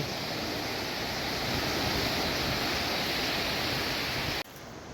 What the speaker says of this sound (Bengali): ঢেউটা একটু বাড়ছে